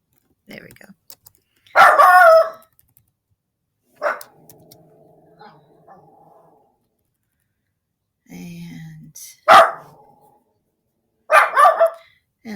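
A dog barks in a few short, loud bursts spaced several seconds apart, with quiet keyboard typing and clicking in between, indoors and close by.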